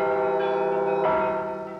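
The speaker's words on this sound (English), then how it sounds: "with Zill bells being selected to adorn the rebuilt Christ the Savior Cathedral" Russian church bells cast by the Zil works ring with dense, sustained metallic harmonics, a fresh strike near the middle swelling the tone before it slowly decays, heard alone and fairly close.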